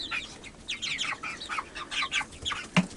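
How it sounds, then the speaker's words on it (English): Laying chicks and a handful of meat chickens cluck and chirp in a brooder under a heat light, with repeated close, bright calls and a brief flutter near the end, no talk over them. "The little ones are our laying chicks, and we got about 6 meat chickens here."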